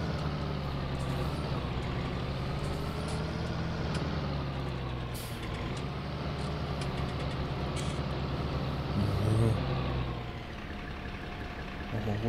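Fendt tractor engine in Farming Simulator 19, a steady, loud diesel drone that holds for the whole stretch with slight shifts in pitch and load and no voices over it.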